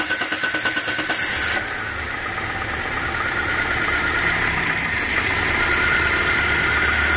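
A Renault Megane 1 with a 2.0 engine that fouls its spark plugs and burns oil cranks over and catches, then settles into a steady, loud idle that runs on alone, close by.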